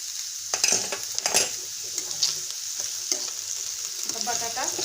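Grated potato frying in oil in a pan for fasting dosa, a steady close sizzle with occasional scraping and stirring clicks of a utensil against the pan.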